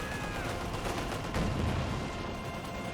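MG42 machine gun fire in the video game Company of Heroes 2, a dense, continuous rattle of rapid shots with battle noise, steady and fairly loud throughout.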